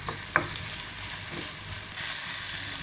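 Small cubes of potato fry in hot oil for a Spanish omelette, giving a steady close sizzle with a sharp utensil clack near the start and soft stirring scrapes after it.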